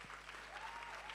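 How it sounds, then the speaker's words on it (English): Brief, faint applause from the audience at a SARSYC conference opening, a soft wash of clapping over a low background hum. "Round of applause, please."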